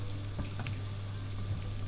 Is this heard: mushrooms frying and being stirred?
yes